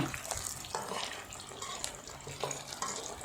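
Crab rolls frying in hot oil produce a faint, bubbling crackle with soft watery spatters and occasional stirring noises, quiet and close.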